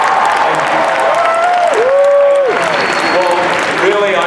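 Fans at the Wolverine panel at San Diego Comic-Con 2013 clap and cheer in a big hall, a loud continuous wave of applause with whoops rising over it.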